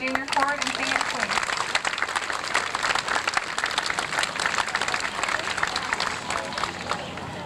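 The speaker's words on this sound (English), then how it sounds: "Could we have a round of applause for the junior corps and senior queen?" A hall audience at a small-town festival pageant applauds the junior and senior queens, a dense, sustained wash of clapping that holds steady throughout, with a brief voice heard at the very start.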